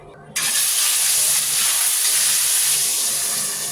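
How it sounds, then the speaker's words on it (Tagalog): Salted fish frying in a pan: a loud, steady hiss of hot oil that bursts in abruptly and keeps sizzling evenly to the end. "Ipiprito ko muna tong isda."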